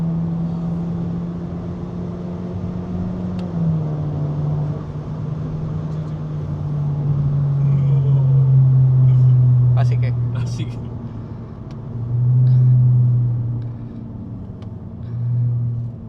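A Honda Civic RS hatchback engine drones and climbs in pitch as it revs past 5,000 rpm into VTEC, surging louder mid-clip, while people talk briefly over the steady road rumble.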